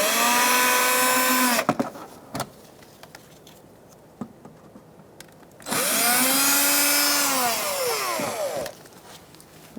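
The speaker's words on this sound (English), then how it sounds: "Using a Phillips head bit on my drill," Cordless power drill with a Phillips head bit backing screws out of a 2014-2019 Kia Soul 1.6L AC condenser area, two loud whining bursts with pitch sweeping up and down as the motor spins, separated by a quieter pause with small clicks.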